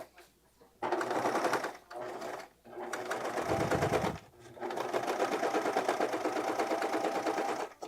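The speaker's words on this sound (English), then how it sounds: "this step right here is a great way to practice kind of serging a little" A serger stitches a curved seam on a misses dress while trimming the fabric edge, running in several bursts with brief pauses and a steady, busy whir throughout.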